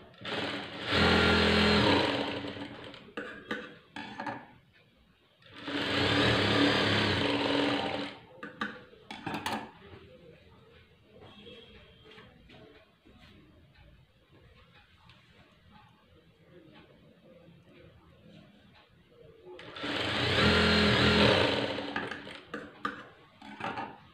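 An electric sewing machine stitches a blouse shoulder seam in three loud, steady whirring runs of a few seconds each, separated by quiet handling sounds.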